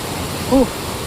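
Fast, strong water at Sahastradhara in Uttarakhand rushes as a broad, steady roar throughout, with a short voiced sound rising over it midway.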